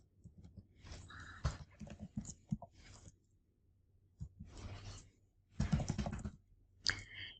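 Someone types a password on a computer keyboard, close bursts of rapid key clicks separated by short silent pauses.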